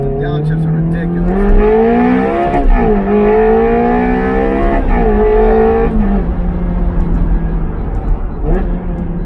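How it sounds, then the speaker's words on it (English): A Ferrari Challenge Stradale revs hard inside a tunnel. The engine roars loudly and echoes, with repeated rising and falling pitch sweeps and sharp blips as it downshifts. "the downshifts are just, you hear that? The downshifts are ridiculous."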